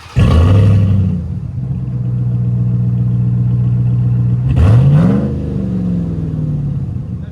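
A RAM TRX pickup fitted with perforated, lightly packed Dynomax Race Bullet exhausts roars loudly through a long rev, holds a steady deep drone, then swells into a second sharp rev before settling back to a throaty idle.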